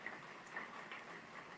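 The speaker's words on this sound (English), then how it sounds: "It's raining too hard." Heavy rain pours steadily just outside an open door, a dense continuous hiss of falling water with no talking over it.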